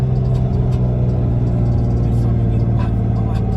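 Lexus SC300 engine under acceleration at low revs around 1,000 RPM, a loud, close, steady droning hum with low rumble from inside the car.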